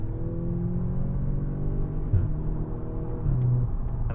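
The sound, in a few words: Audi S3 Sportback 2-litre engine revving, gear changes, exhaust pops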